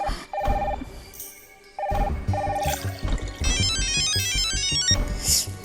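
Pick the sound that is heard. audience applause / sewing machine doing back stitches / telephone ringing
telephone ringing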